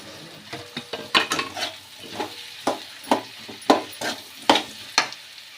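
Potatoes and onions being stirred in a frying pan, with a steady sizzle under repeated scraping strokes of a spatula against the pan, about a dozen distinct close, moderately loud strokes at an uneven rhythm, no talking.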